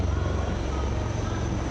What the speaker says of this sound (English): A lone helicopter, rather 3 helicopters in Vic formation as they move forward